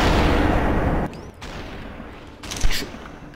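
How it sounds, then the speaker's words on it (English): Gunfire in the video game SUPERHOT: a loud, dense blast of shots up front, then a quieter gap and another sharp report near the end, with no talk. "Oh, he's shooting at me now."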